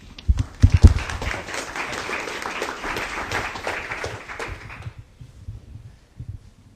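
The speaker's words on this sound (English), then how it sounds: "Would you please join me with a round of applause?" Applause from an audience welcoming a speaker to the podium at a talk on cars and California climate policy, starting with a few heavy thumps and bumps nearby, then a broad burst of clapping that cuts off after about five seconds, leaving quiet room noise.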